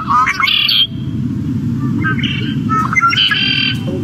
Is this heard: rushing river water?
no